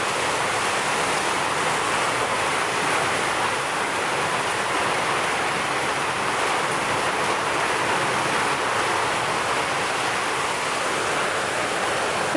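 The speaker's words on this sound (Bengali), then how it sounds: "এখন আপনি একটু বৃষ্টি উপভোগ করেন" Steady heavy rain hisses without a break, a dense, even wash of sound that stays loud and unchanging from start to end, with no voices.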